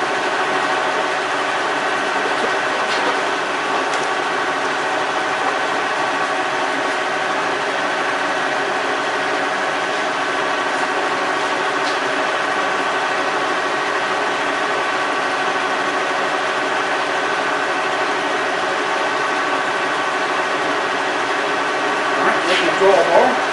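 A Kearney & Trecker 2CH milling machine runs at a slow 35 RPM with a steady, loud mechanical hum and whir that holds throughout, with a faint knock near the end.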